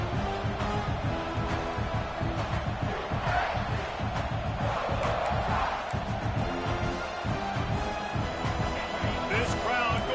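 A dense stadium crowd roars steadily throughout a college football video game, loud and continuous, with a commentator's voice talking over it.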